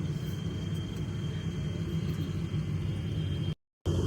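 An Alliance Air airplane taxis and turns on the ground, its engines making a steady low rumble with broadband roar heard from inside the cabin, continuous until a brief cut near the end.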